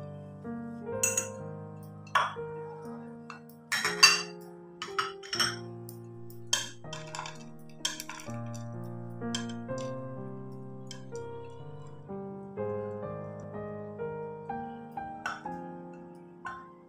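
Dry bhel being served onto a plate brings scattered light clinks and taps of a utensil against dishware, irregular and close, over a quiet background without speech.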